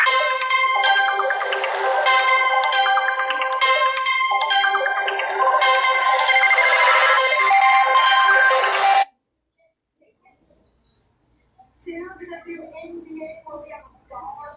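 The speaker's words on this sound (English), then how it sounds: "according to Lockyer, these spam calls keep on calling like crazy" A Motorola phone plays a loud, bright melodic ringtone for an incoming spam call. It repeats for about nine seconds and then stops abruptly, leaving quieter sounds after a brief silence.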